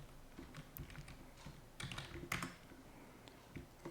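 Computer keyboard keys pressed in scattered, irregular clusters of soft, close clicks over a quiet background.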